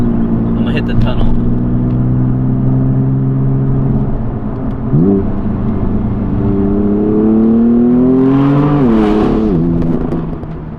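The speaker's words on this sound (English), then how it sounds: "I'm obsessed with downshifting in this thing." A BMW M4 engine roars loudly and continuously as it revs through downshifts inside a tunnel, with rising and falling pitch sweeps and a big surge near the end.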